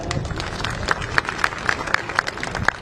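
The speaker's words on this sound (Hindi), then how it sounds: "आप दोनों हाथ से ताली बजा के स्वागत करो" An audience at a public gathering claps with both hands, a steady crowd applause of sharp, regularly spaced claps standing out over a dense wash of hand noise, fairly loud and close.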